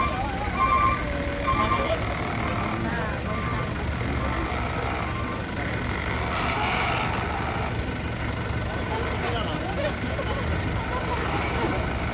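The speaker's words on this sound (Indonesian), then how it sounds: "di sini sudah macet betul" Traffic jam with trucks and cars at a funeral guest-reception gathering, a steady dense rumble of idling engines with faint beeping tones, while people talk over it.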